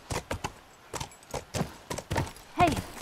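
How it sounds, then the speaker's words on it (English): Horse hooves clip-clop in The Last of Us, a run of irregular, close thuds and knocks as the horse moves, with a heavier cluster near the end and no speech over it. "Come on, horse. I want you to jump."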